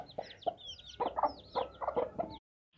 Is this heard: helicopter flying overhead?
no